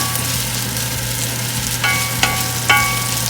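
Onions fry in a pan for pork and liver adobo, a steady close sizzle over a low hum, with a few sharper clinks from stirring near the end.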